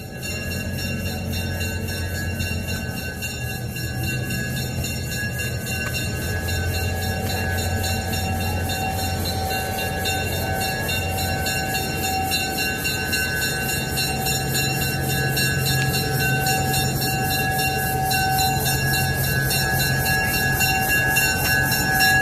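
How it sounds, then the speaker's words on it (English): A heritage passenger train, the Missionary Ridge Local running between West and East Chattanooga, rumbles steadily throughout, with continuous low wheel noise and a faint high tone running over the top. "Today we'll be riding on a train called the Missionary Ridge Local"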